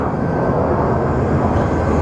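A Boeing 787 Dreamliner airliner crosses over at Phoenix Sky Harbor airport, producing a steady, loud engine roar that holds evenly throughout without any voices.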